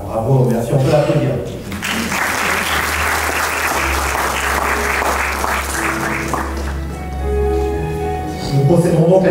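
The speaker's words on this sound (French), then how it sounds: "on peut l'applaudir" Wedding guests at a ring exchange break into loud, sustained clapping that fills the room for several seconds, with voices talking over it and continuing as the applause fades.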